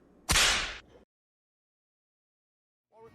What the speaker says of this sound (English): it's finally time to talk about the whip crack.